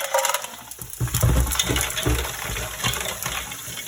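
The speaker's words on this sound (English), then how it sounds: "And we're gonna add our ice." Ice dumped into a pot of water in a home kitchen during potato salad prep, a close clattering crunch and splash of cubes followed by settling clinks, no talking.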